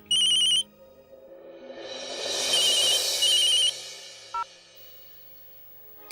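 A telephone ringtone plays loud and close, a bright repeating electronic tone heard in short bursts with a swelling musical ring in between, with no talking over it.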